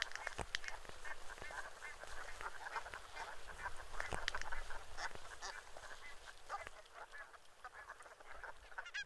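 Greylag geese honk repeatedly in an outdoor flock on Wangerooge island, a dense overlapping chorus of calls at moderate distance over a steady background wash.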